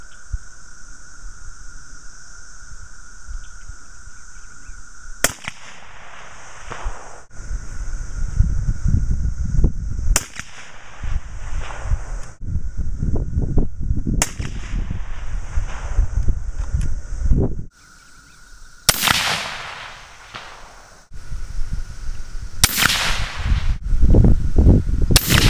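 A 22-243 rifle fitted with a Brevis 7.62 suppressor fires about six muffled shots outdoors. Each is a sharp crack several seconds apart, set against steady wind noise.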